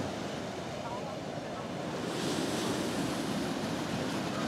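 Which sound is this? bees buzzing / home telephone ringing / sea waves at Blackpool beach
sea waves at Blackpool beach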